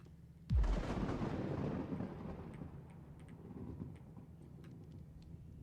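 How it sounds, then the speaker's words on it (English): Thunder crashes with a sudden loud crack during a storm, then rolls and rumbles low for several seconds before fading into a quieter background. "I heard lightning and I was very scared."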